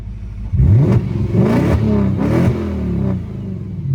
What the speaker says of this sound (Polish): to może zobaczmy jak chodzi wydech, bo wydech też nie jest tutaj seryjny